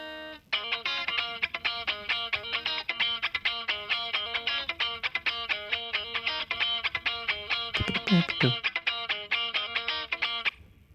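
Stratocaster with standard single-coil pickups, played through the Pod Farm amp plugin in a game-music style. Tight, rhythmic picked notes and choppy chord stabs repeat in a steady pulse, upfront and alone.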